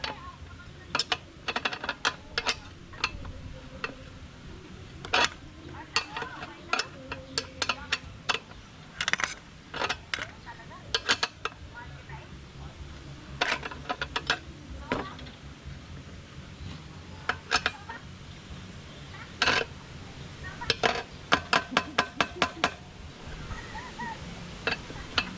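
Bicycle being tightened and adjusted by hand: a run of sharp metallic clicks and ratcheting ticks in irregular bursts, close and moderately loud, with light handling noise and occasional soft voice in the background.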